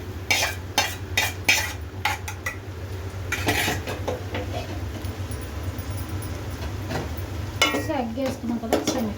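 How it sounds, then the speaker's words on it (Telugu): A utensil clatters and scrapes against a metal pan as fried egg is stirred for chicken fried rice, with close, loud, irregular clinks over a steady background sizzle, and a voice speaks briefly. "ఎగ్ వేసుకున్నాం కదా, ఒకసారి మిక్స్ చేసుకుంటాం."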